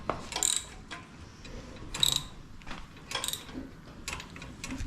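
A ratchet wrench clicks while torquing a bolt on the 350 engine of a 1976 Pontiac Firebird during an engine pull, giving a few bursts of close, bright metallic ratcheting over a low workshop background.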